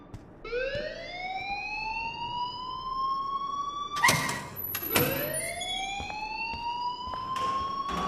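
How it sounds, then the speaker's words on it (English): Alarm in the game Life is Strange, a loud rising electronic wail that climbs, holds, and restarts after a sharp break, ringing steadily with no speech. "please turn off that alarm since that's your job"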